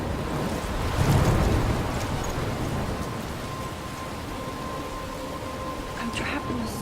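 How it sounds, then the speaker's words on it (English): Rain and a thunderstorm in the video game Life Is Strange: a steady rush of rain under a low rumble of thunder that swells early on, with a voice speaking over the storm. "I'm trapped in a storm?"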